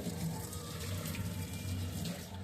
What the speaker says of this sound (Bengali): অবশ্যই তো জলটা ফেলে দেবো।